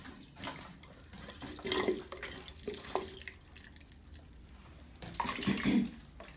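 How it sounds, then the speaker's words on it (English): A WaterBOB emergency water storage bladder siphons water into a pitcher with a quiet, continuous trickle and occasional splashes and drips, close by and without talking. "it should start a siphoning effect, which is what's happening right now"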